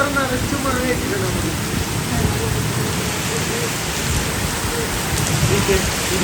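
Heavy rain pours down at night during a thunderstorm, a dense, steady roar of drops on surfaces with low rumbling beneath, loud and continuous throughout with no break.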